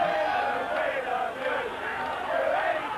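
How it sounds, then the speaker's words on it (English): A rugby crowd roars and cheers in a continuous, fairly distant swell, getting behind the Queensland side during a 1992 match against Great Britain. "the crowd certainly getting involved and getting behind the Queensland side"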